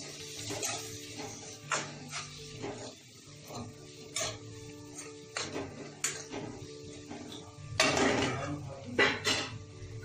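Indian-style masala pasta being stirred in a pan, with repeated clinks and scrapes of a utensil against the metal, close and moderately loud, no talking.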